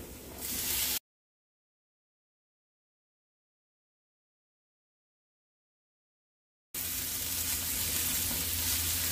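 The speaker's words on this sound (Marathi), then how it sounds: "आपण इथे भाज्या एखाद मिनिट परतून घेतलेल्या आहे" Carrots and peas sauté in a pan for masala oats, a steady sizzle heard up close at the start and again at the end, with a long silent gap in between.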